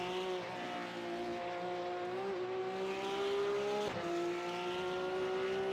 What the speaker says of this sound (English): You just hear how patient these guys have to be on the throttle of these cup cars